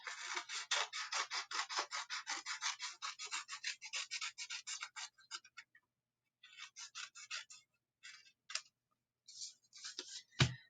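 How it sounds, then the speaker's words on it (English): Scissors snip through paper in a quick, steady rhythm close up, cutting out a traced shape, then a few scattered snips follow after brief pauses. "Then I will use my scissors and cut this shape."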